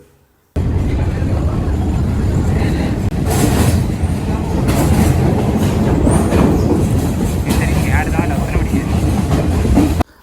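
Train on the Mihintale to Anuradhapura line, a loud continuous rumble with rhythmic clickety-clack of wheels on track and occasional squeals, steady and close from inside the carriage, with faint background voices.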